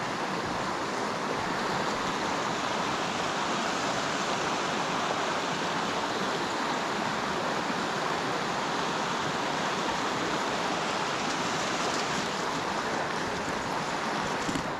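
The Haltwhistle Burn river flows steadily by its bank, a dense, even rushing roar of moving water close by that holds constant throughout without a break.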